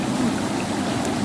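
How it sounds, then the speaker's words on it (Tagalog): Strong flowing water rushing steadily and close by, a continuous dense wash with no breaks and no voices. "Medyo malakas yung tubig eh"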